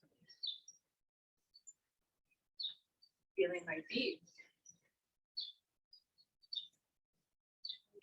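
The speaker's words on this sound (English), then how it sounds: "Those birds." Birds chirping outdoors, short high tweets scattered every second or so, faint and distant, with a brief stretch of speech in the middle.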